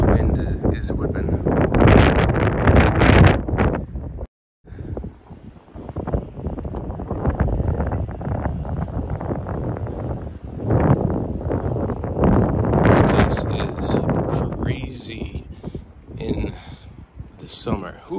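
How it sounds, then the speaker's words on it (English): Strong wind whipping across Hampton Beach buffets the microphone with a loud, roaring rush that swells and eases, briefly cutting out, while a person talks over it. "The wind is whipping."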